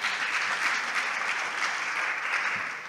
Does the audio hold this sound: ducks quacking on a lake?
no